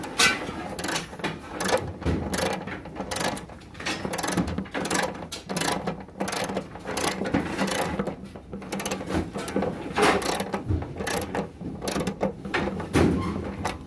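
Screws being tightened on the fuel pump of a 2002 Honda VTX 1800S during a rebuild, close mechanical clicking and ratcheting with scraping metal handling, continuous and fairly loud, with no talking.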